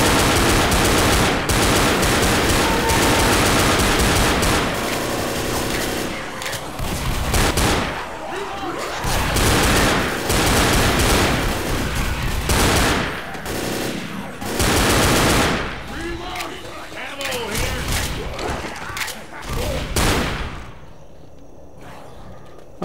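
Dense automatic gunfire from a farmhouse finale fight in Left 4 Dead, loud sustained bursts and rapid rattling volleys with brief pauses, heavy thumps mixed in, tapering off near the end.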